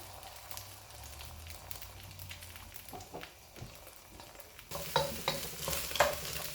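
Eggs scramble in vegetable oil in a pan for fried rice, soft crackling sizzle with scattered spatula scrapes and taps, turning louder and spattering for the last couple of seconds; close, no talk.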